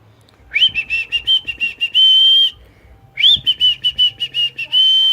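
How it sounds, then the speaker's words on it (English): A high, clear whistle in short repeated bursts, then a longer held tone, a pause, and another run of quick whistled notes; close and fairly loud. "Whistle now."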